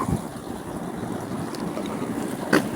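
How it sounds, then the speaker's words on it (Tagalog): Steady, strong wind roaring across the microphone, a broad continuous rush with a brief louder gust near the end; no one speaks. "medyo malakas ang hangin"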